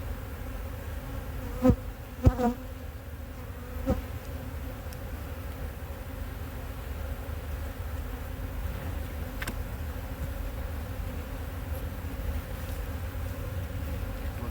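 Steady, low buzzing of many honey bees around hive frames fills the air continuously, with a few brief knocks and clicks early on.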